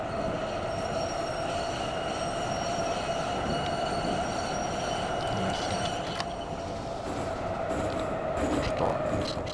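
Metro train running in the Garry's Mod Metrostroi game, a steady continuous rolling rumble with a sustained motor whine and faint wheel squeals, close and even throughout with no talk.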